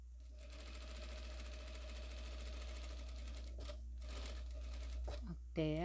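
A sewing machine stitches along the edge of fabric in a long, steady, close mechanical whir with a fast even rhythm, breaking off briefly near the end among light handling noises.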